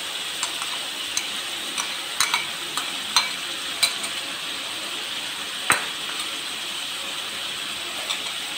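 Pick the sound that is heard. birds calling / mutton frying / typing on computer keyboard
mutton frying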